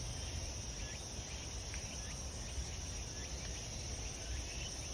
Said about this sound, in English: Get to hear the final sounds of the cicadas and the various orthopterans that are singing.